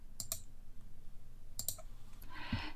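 A computer mouse gives two quick double clicks about a second apart, then a single soft click with a faint rustle, close and quiet, while someone works in Polyboard design software.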